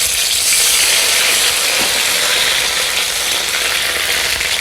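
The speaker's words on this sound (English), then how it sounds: "let's pop in our ginger," Ginger sautéing in warm ghee in a pan gives a steady, loud, continuous sizzle and hiss close by, with no talking.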